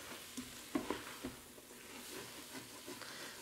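Vegetables and flour sizzle quietly in a Ninja Foodi pot, a soft steady frying hiss broken by a few light stirring clinks and scrapes.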